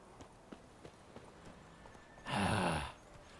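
A horse in the video game The Witcher 3: Wild Hunt approaches with soft, evenly spaced hoof clops before a loud, close whinny.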